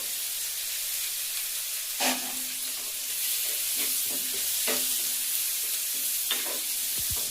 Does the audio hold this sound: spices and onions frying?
yes